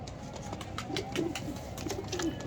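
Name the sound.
Salara pigeons cooing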